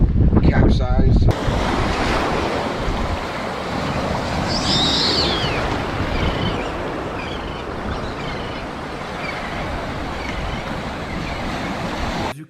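Gulf shore surf rolls in as a continuous broad wash of waves, with wind buffeting the microphone throughout and a faint high call briefly rising over it.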